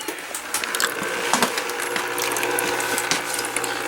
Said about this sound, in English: So with that pump running, I think this is probably way too much water going through there